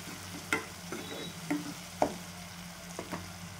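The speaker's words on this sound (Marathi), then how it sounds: "कोथिंबीर पण तेलामध्येच घालून घेते। तेलामध्ये कोथिंबीर भाजलं तर टेस्ट खूप छान येते" Coriander leaves frying in hot oil for a Vidarbha-style wet pigeon pea amti, heard as a few sharp stirring scrapes and pops spaced over a quiet low background hum, with no voices.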